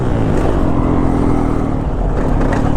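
A 2022 Yamaha YZ450FX off-road motorcycle under throttle: a loud, close, continuous engine drone with a low throbbing rumble holds steady for a few seconds, with no voices.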